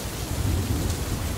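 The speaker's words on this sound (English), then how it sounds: "Suddenly, thunder and stormy weather." Stormy weather at sea, with a low rumble of thunder under a steady wash of rain, brief and fairly faint with no voices.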